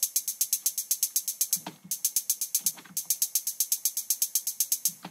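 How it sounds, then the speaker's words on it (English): A widened main hi-hat in an electronic track ticks in a fast, steady pattern of bright, crisp hits, briefly pausing twice while soft low thumps sit underneath. "adding more width to the sound of this main hi-hat with this utility plugin"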